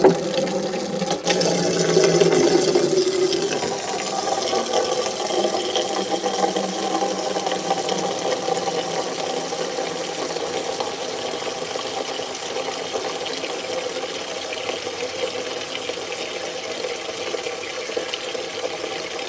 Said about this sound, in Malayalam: ഇനി നമുക്ക് വെള്ളം നിറച്ചെടുക്കാവേ.